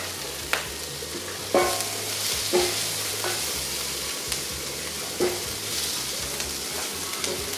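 Minced ginger and then garlic frying and being stirred in a pan for a Polynesian lamb curry, giving a steady sizzle with several sharp clatters of a utensil against the pan; no one speaks.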